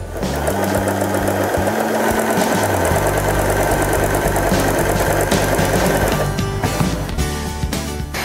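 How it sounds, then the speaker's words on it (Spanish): A Janome 3016 sewing machine runs a zigzag overcast stitch along a fabric edge, a loud, continuous mechanical whirr and rapid rhythmic clatter close by for the whole stretch, without talk. "Bajo la palanca del prensatelas para empezar a coser"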